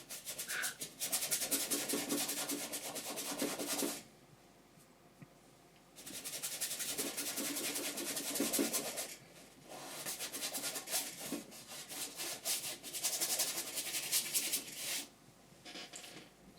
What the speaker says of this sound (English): the scrubbing part is actually probably the hardest part of this painting